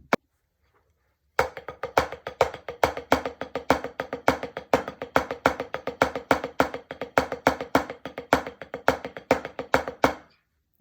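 Snare-style drum cadence played straight through on a practice surface, a steady stream of crisp, evenly spaced hits with accented strokes for about nine seconds after a brief silence, close and alone before the last hit rings off.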